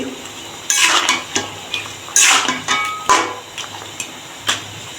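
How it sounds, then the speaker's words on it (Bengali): A spoon stirs a pot of free-range chicken and potato curry in a jhol, with repeated close metallic scrapes and clanks against the pot at an uneven rhythm. "10 মিনিট পরে আবার একটু ভালোভাবে নেড়ে দিচ্ছি।"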